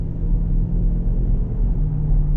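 A Dodge Durango SRT Trackhawk idles with its supercharger running, giving a steady, loud low rumble with a faint whine on top that holds constant throughout, with no talking.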